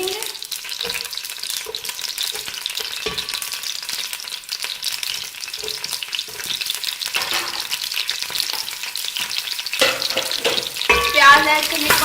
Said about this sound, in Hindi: अब हम इसमें प्याज ऐड करेंगे।